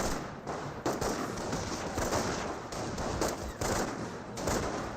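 A German machine gun team firing in the strategy game Company of Heroes 1, a steady stream of rapid shots with short gaps between bursts, dense and fairly close.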